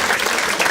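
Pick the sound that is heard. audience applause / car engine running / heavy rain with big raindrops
audience applause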